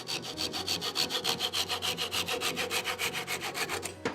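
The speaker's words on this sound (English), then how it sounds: "I just hang on to this, take my little saw," A small hand saw cuts through a wooden piece held in a lathe chuck, its strokes a steady back-and-forth rasp of about twenty quick passes, close and continuous throughout.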